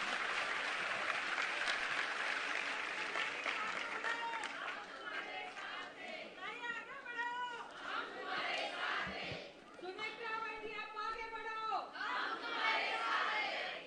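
An audience at a Women's Day event claps loudly and continuously, with cheers and raised voices swelling through the dense applause over about fourteen seconds.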